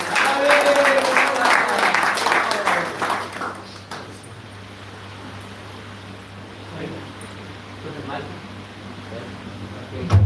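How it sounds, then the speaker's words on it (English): Audience applause at an evening devotional gathering, a steady fairly loud burst lasting about three seconds before dying away into quiet room hum with faint movement. "Let's give another round of applause."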